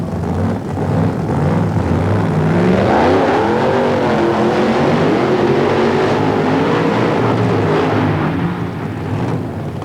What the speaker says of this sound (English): good, strong, smoky burnouts from both drivers